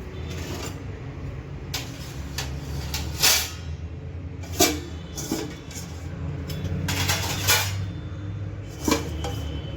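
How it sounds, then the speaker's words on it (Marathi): Dishes and pots are put away in a home kitchen at night, with scattered metallic clanks and clatters spaced a second or two apart over a quiet low hum, fairly soft and without talk. "आता मी भांडी लावून घेते."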